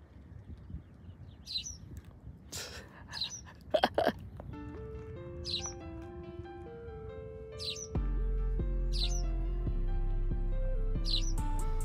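Small birds chirp noisily in a tree, short bright calls repeating through the clip, joined by a sustained musical drone that grows louder in the second half.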